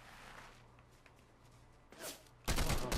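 Fortnite gunfire from an enemy player sounds faint at first, then bursts of loud, sharp shots erupt near the end.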